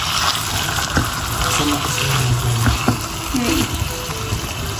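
Chicken pieces hit hot oil in a pan, giving a bright, steady hiss and crackle with a few clatters, while a person talks quietly underneath.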